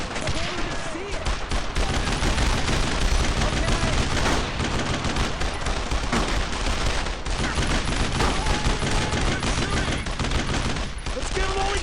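Heavy battle gunfire from Brothers in Arms: Road to Hill 30, a dense, continuous roar of rifle and machine-gun bursts and explosions, loud and unbroken throughout, with shouting voices mixed in.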